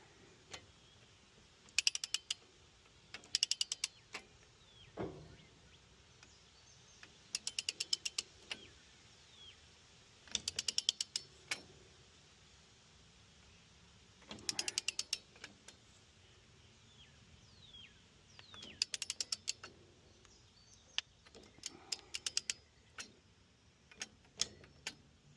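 Ratcheting torque wrench tightening bolts to 25 foot-pounds on a New Holland 644 round baler's sledge roller clutch assembly, heard as repeated bursts of sharp clicking ratchet strokes with pauses between, fairly close and clear.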